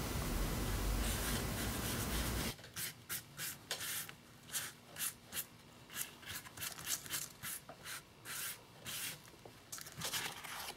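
A sponge dabs and rubs paint onto paper for a faux leather finish, making soft, rhythmic scratchy strokes that come in short, repeated bursts after a brief stretch of louder broadband noise.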